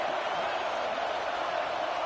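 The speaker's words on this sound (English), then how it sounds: "No fall off from the noise or intensity from this crowd" Football stadium crowd at a Texas A&M game in the fourth quarter, a steady loud roar of cheering and noise filling the whole stretch without pause.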